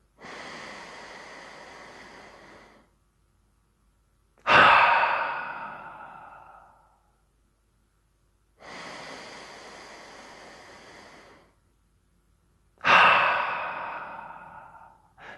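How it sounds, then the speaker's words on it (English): Powerful, aggressive exhalations before a sprint: two long, breathy inhales, each followed by a sudden forceful blast of breath out through the mouth, close and alone. "when you breathe out, it's more powerful and aggressive"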